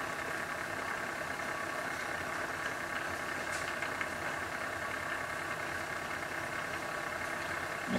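A motor running steadily with a continuous hum and faint mechanical vibration, gradually picking up speed, quiet and even with a few small clicks.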